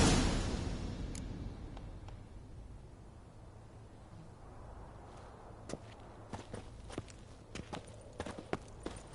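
Horse hooves clip-clopping in the video game The Witcher 3, a faint steady walk of light clopping steps that grows more distinct in the latter half and sits over low background ambience.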